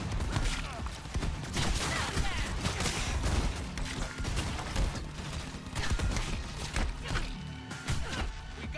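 Sustained gunfire fills a firefight in the video game Cyberpunk 2077, with dense bursts of shots, impacts and crashes layered over a constant loud battle din that runs for the whole stretch.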